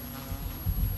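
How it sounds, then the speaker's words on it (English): Insects droning and buzzing on an evening, a low steady murmur that swells louder toward the end, with no voices. "In the evening, I could hear the sound of insects."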